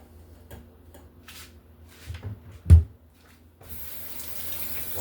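In a home kitchen, a water tap starts running steadily for hand washing after a few soft knocks and a louder thump, the flow continuing as a constant hiss to the end.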